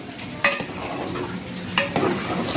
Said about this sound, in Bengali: একটু ভালো করে নাড়িয়ে নিই তেলটা গরম হলো